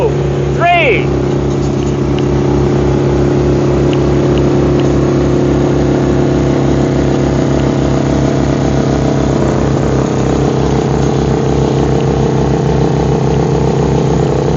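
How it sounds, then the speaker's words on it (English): Ripa R15 and R10 RC boats racing at full throttle, with a steady, loud, buzzing motor drone held for the whole stretch, close and constant. "We're gonna give full throttle. And race on the count of 3."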